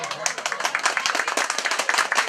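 Applause and clapping ring out at a family birthday celebration, a dense burst of quick claps close to the microphone with voices talking alongside.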